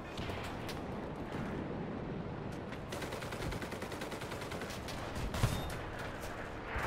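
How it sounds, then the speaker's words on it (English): Automatic weapon fire in the World War II shooter Enlisted, a faint, continuous rattle of distant gunfire with occasional louder bursts that stays steady throughout. "A machine gun"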